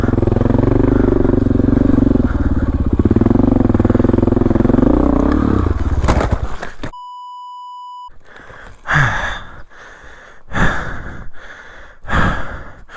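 A dirt bike labors hard up a rough mountain trail, its engine droning loud and close for several seconds before cutting out, followed by a pause and then heavy, ragged breathing in bursts.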